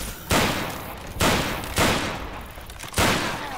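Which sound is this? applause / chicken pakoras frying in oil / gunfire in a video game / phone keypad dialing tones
gunfire in a video game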